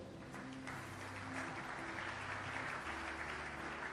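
A church congregation claps together in sustained applause, a dense, even patter of many hands filling the room, with a low musical hum underneath.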